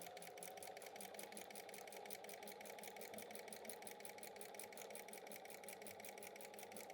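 A sewing machine runs steadily, stitching a quilt block along a marked red line, its needle clattering in a fast, even rhythm that stays close and continuous throughout.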